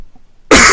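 A single sudden, loud cough bursts out close to the microphone after half a second of near silence.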